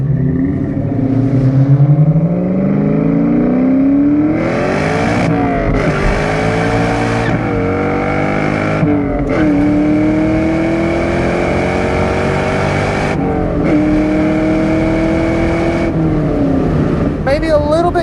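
A supercharged 1997 Ford SVT Cobra with the 4.6 V8 pulls hard through the gears, loud rising engine tone with supercharger whine, sharp drops at each shift, heard close from inside the car.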